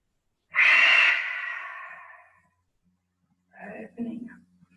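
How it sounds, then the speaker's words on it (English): A deep yoga inhale draws in loudly and close for about two seconds, tapering off, followed after a pause by a short softer breathy stretch with low vocal murmur. "Inhale, opening up to the heavens, taking a nice deep breath in, lungs filling"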